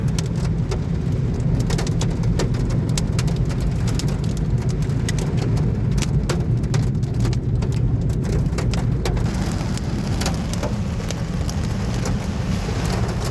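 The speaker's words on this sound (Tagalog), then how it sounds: "lakas ng ulan" Heavy rain pours steadily in Dammam, a dense constant hiss with scattered drops pattering close by, unbroken for the whole stretch.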